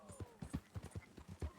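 Horse hooves clip-clop at a steady walking pace in the video game Red Dead Redemption 2, a soft, evenly spaced series of muffled thuds heard up close and fairly quietly.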